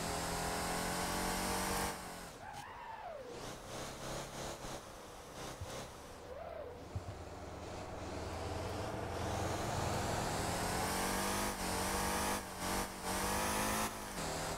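V12 engine in a small car in the Motor Town driving game, revving and accelerating loudly through several gear changes, with a steady high drone and brief dips between shifts, no talking.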